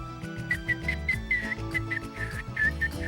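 Game characters whistle a melody in Wild Arms 3, a steady high tune running over a continuous musical backing throughout.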